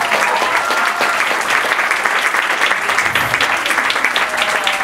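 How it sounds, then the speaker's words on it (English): Wedding guests applauding during a best man's speech, thick continuous clapping from a full room held at a steady level throughout. "Round of applause for that"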